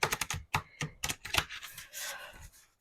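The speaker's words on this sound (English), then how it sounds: "So let's do a little shuffle quick here." Tarot card deck being shuffled, a quick run of crisp riffling snaps and flutters in short bursts, close and alone with no voice.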